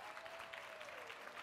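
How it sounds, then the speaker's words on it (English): A conference audience applauds a volunteer called up on stage, a steady patter of clapping hands heard faintly and evenly for a short moment. "a big round of applause for Carolyn, or whatever your name is."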